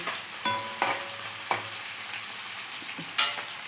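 Steady frying sizzle in a pan while cooking gongura curry, broken by several sharp stirring scrapes and clinks at irregular intervals, close and fairly loud with no talking.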